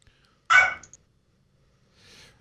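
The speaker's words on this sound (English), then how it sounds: "my smallest dog is deciding to bark" A small dog, its barking set off by a doorbell, lets out one sharp loud bark followed by a quieter fainter yelp a moment later, otherwise near silence.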